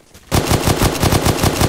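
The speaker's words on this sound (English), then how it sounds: "Why is this gun so bad?" Rapid automatic gunfire from a weapon in the video game Garry's Mod, starting abruptly after a brief quiet moment and then hammering in a fast, even burst of loud, close shots that runs to the end.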